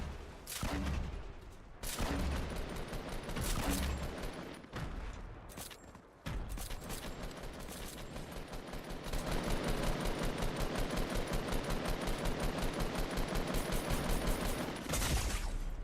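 Sustained automatic weapon fire in the video game Fortnite, long rapid bursts broken by brief gaps, then a steady dense rattle near the end, loud and close with no talk.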